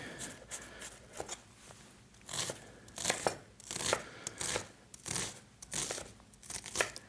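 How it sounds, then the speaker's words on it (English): Quick, rhythmic chopping of vegetables with a knife on a board, close and crisp, in bursts of repeated strokes with short pauses between them, while preparing chilli cumin dal. "So we just chop this up here and chop these down really quickly."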